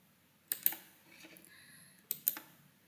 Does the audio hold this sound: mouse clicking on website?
yes